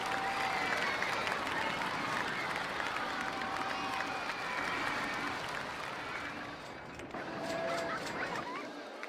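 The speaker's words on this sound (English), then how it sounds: "everybody stands there and they'll like clap at you" A RollerCoaster Tycoon game crowd claps and cheers in a steady wash of applause with scattered honking and chatter, continuous and moderately loud for several seconds before thinning slightly toward the end.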